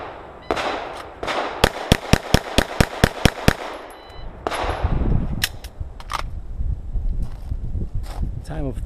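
Nine rapid gunshots in a timed shooting drill, sharp cracks fired in a quick string, followed by a burst of speech and a few more scattered bangs in the background at an outdoor range.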